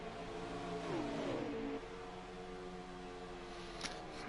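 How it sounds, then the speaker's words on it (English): Race car engines drone in a racing video game, a steady layered hum with one engine briefly rising in pitch as it revs, then settling into a continuous buzz. "It's all engines."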